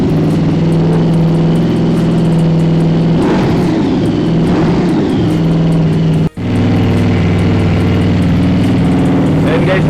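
A QJ Motor SRV600 motorcycle engine runs at idle close by, a steady mid-pitched drone with a few throttle swells and one abrupt brief dropout, continuing loud and unbroken throughout.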